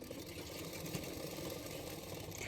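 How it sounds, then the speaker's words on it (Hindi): A sewing machine stitches folded extra fabric along the sides of a boat-neck blouse, giving a steady, continuous mechanical whir at close range with no pauses. "दोनों साइडों में मैंने एक्स्ट्रा फैब्रिक को इस तरह से फोल्ड करके सिलाई कर रही हूँ"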